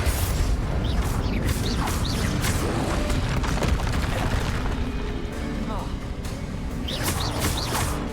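Bombarda blast spell in Hogwarts Legacy combat, a dense, loud rumble of repeated booms and crackling impacts. Whooshing spell effects and a voice run on top throughout.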